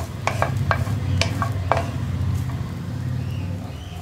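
Grated coconut being stirred and roasted in a pan for a dried fish chutney, with a few sharp scraping clicks of the spatula against the pan over a low steady background.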